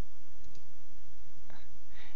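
A computer mouse clicks a couple of times in a quiet room, two or three sharp, faint taps separated by near silence.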